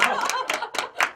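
A few separate claps, sharp and close, spaced roughly every quarter second, with a voice faintly present.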